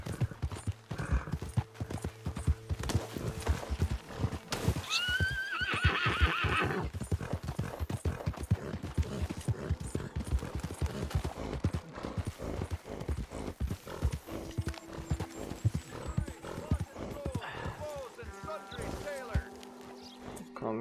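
Horse hooves clip-clop in a steady rhythm in Red Dead Redemption 2, with a clear whinny early on and people talking over the action.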